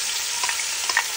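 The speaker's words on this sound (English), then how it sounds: "now what we're going to do with that goodness is we're going to saute our onions" Onions sautéing in bacon fat in a pan for broccoli cheddar soup, a loud and steady close-up sizzle with a few faint stirring scrapes and no voices.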